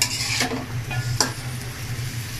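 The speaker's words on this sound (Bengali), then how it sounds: "একটু নেড়ে দিব সবজিগুলা" Flat beans and winter vegetables in a pan over medium-high heat, stirred with a few distinct scraping strokes against a low hum and faint sizzle, no voices.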